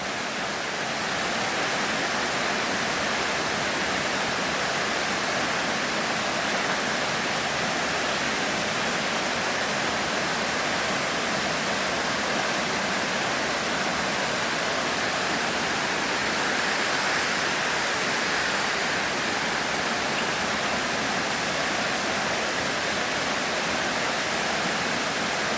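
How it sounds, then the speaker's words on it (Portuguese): A hidden waterfall in the hills roars close by, a loud, dense, unbroken rush of falling water that holds steady from start to finish with no other sounds. "Olha que cachoeira fantástica. Cachoeira escondida que tem no cerro."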